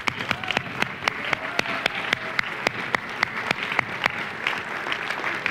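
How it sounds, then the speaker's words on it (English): Audience applause greets the guests of a live diversity training discussion, steady clapping from a modest crowd with sharp individual claps standing out, sustained evenly throughout. "let's have a big round of applause for our guests"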